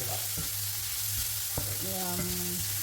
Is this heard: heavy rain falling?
no